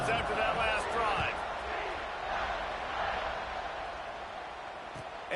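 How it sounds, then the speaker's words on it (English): A stadium crowd in the College Football 26 video game roars steadily in the background after a scoring drive, while a commentator talks over it throughout. "this crowd is feeling themselves after that last drive"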